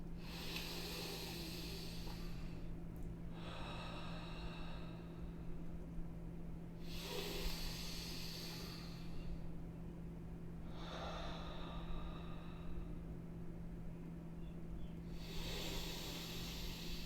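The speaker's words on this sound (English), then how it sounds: "Start to take deep inhales and exhales." Slow, deep breathing during a guided meditation, with long hissy inhales and exhales repeating in a steady cycle. Each breath is soft and close over a faint low hum.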